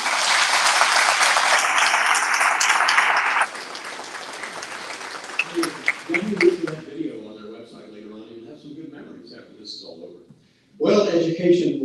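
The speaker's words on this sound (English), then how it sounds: "let's offer a round of applause to all these people who make this so special" Loud applause from a large audience at a National Teacher Hall of Fame induction ceremony, steady for about three seconds and then tapering into scattered claps and murmuring voices before a brief renewed burst near the end.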